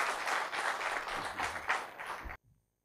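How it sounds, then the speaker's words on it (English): A crowd applauds with steady, dense clapping for a couple of seconds, then it stops abruptly and only a faint trailing clap remains. "Let's give them a clap"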